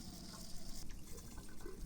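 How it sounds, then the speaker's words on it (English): Cold water gushes from a tap at full flow, a steady broadband rushing and splashing sound that stays loud and continuous throughout. "Run the cold water at full flow for 3 to 5 minutes."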